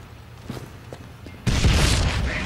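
Grenade explosions in Killing Floor on the Burning Paris map: a few faint thuds give way to a sudden loud close blast that rolls on as a dense roaring rumble.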